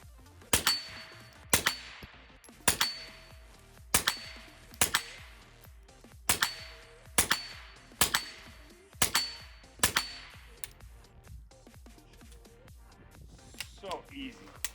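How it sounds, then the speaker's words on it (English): Ten suppressed shots from a Volquartsen Black Mamba 6-inch .22 LR pistol fitted with a SilencerCo Sparrow 22, fired at a target 25 yards away, come as sharp, evenly spaced cracks, each ending in a short metallic ring, followed by quiet. "just want to place 10 shots at 25 yards just to see how"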